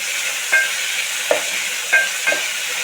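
Tomatoes sautéing with salt in a pan, a steady close sizzle broken by four sharp scraping stirs of a spatula, no voices.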